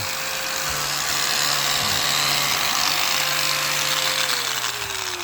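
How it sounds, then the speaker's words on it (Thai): A Leo Bi 650 W angle grinder running straight off solar panel DC power gives a loud, steady high-pitched whine with a constant motor hum beneath it, its pitch sagging slightly near the end. "ลูกหมูหินเจียตัวนี้ยี่ห้อเลียว บิ นะครับ เลียว บิ 650 วัตต์"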